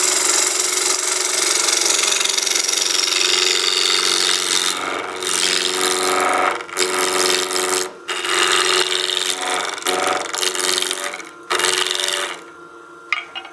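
A wooden pot spins on a wood lathe at about 1500 RPM while a tool bites in, giving a loud, close rasping and scraping with brief gaps as the cut pauses and resumes, with no voices.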